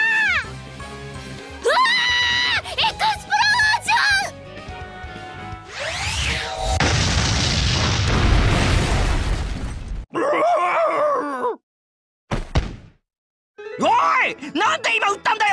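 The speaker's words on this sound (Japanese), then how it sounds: "爆裂魔法で結界ごと全部吹っ飛んじまったじゃねえか" An Explosion spell blasts apart a magical barrier in the Konosuba anime: a loud, sustained roaring burst lasting several seconds, framed by character voices and music before and after.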